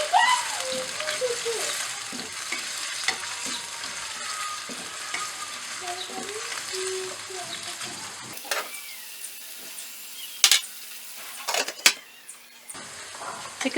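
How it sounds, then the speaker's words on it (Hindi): Chicken pieces with onion sizzle and crackle in a hot pan, with frequent scraping as they are stirred; the frying sound fades and a few clanks and bumps follow near the end. "और साथ में इसमें चिकन डाल दूँगी। इसको मैं तकरीबन 5 मिनट तक भूनूंगी।"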